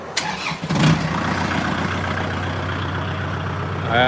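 An engine-driven water pump fitted with large pipe connectors starts up and settles into a loud, steady low rumble close by, with a faint rising whine near the end, no talking.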